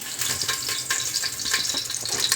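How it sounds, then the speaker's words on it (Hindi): Hot oil for tempering lentils (dal tadka) crackles and sizzles steadily, a dense hissing spatter with small pops, close by and with no voices. "अब भाई बारी है दाल में तड़का लगाने की।"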